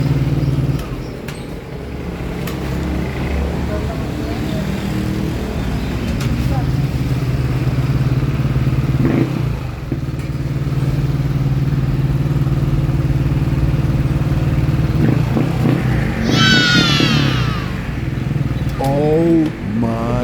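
A Yamaha Aerox motor scooter with an idle fault, its engine started and running at a steady mid-pitched idle while people talk nearby.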